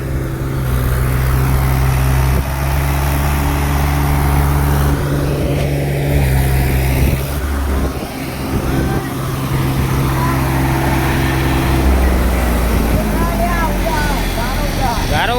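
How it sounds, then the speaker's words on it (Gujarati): A tractor engine strains while stuck in mud, a loud steady low drone with rising and falling revs through the clip, with people talking over it. "ટ્રેક્ટર હજુ કાંગડા નાખે છે."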